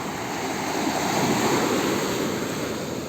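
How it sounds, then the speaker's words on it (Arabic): Sea waves break on a beach in Alexandria as a steady, full wash of surf with some wind noise, close and continuous, with no talk. "صوت الموج هنا جميل جدا"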